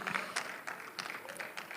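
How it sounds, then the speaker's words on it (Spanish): A church congregation's applause during a Spanish-language service, a faint, soft wash of many hands clapping at a distance. "Vamos a darle un fuerte aplauso al Señor porque Él está haciendo grandes cosas en nosotros."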